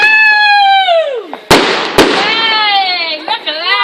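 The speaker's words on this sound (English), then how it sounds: "Our first fireworks of the night." Bonfire night fireworks whistle up, falling in pitch, then two sharp, loud bangs crack close together about half a second apart, followed by more whistling trails.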